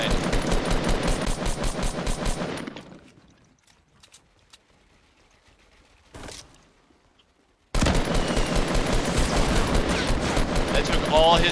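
Rapid automatic gunfire in the Fortnite video game rattles loud and close, breaks off into near silence with one brief burst, then resumes in a dense sustained volley.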